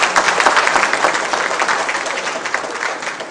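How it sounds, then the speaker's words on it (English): Audience applause at an evening function in Odisha, dense sustained clapping from a large crowd, loud and even throughout with no voices above it. "Please give him a round of applause."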